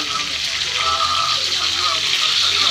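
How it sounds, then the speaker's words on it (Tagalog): Meat frying in hot oil before adobo is made, a steady close hiss and crackle that runs unbroken throughout, with a voice talking faintly underneath. "Piniprito ko muna bago yung adobo."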